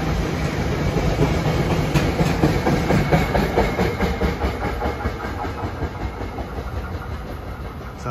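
A train rolls past a trackside spot in Bucks County, Pennsylvania, its rumble and rhythmic clickety-clack of wheels over rail joints steady and fairly loud throughout, with an engine drone underneath and no talking.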